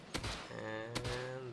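Two sharp gunshots less than a second apart from a player's weapon during a firefight at a base in the survival game Rust, over a steady tonal game background.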